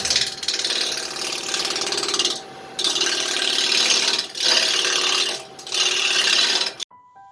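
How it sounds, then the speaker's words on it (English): An oak body cut from a quarter log spins on a wood lathe while the tool rasps and scrapes steadily in long bursts, with short pauses between passes, before the cutting stops abruptly. "So here I am just turning the piece of wood around."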